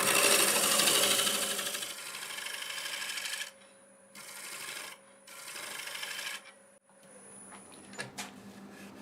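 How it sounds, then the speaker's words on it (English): A negative rake scraper smooths green walnut spinning on a wood lathe, giving a steady loud rasping scrape with a faint motor whine beneath, broken by a few short pauses as the tool lifts off the wood. "I'm going to go over it with the negative rake scraper."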